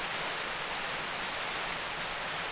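A waterfall in Snowdonia roars close by as one steady, broad rush of falling water that stays at the same level throughout, with no other sounds.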